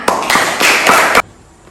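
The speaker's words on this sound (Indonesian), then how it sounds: "Oke, tepuk tangan." A short burst of applause from a group of students in a biology classroom, claps tightly packed and loud, stopping abruptly into quiet room tone.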